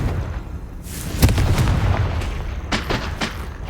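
A Confringo explosive spell blast in Hogwarts Legacy, a loud booming burst with a sharp crack near the start, then a second cluster of punchy blasts over a rumbling low bed.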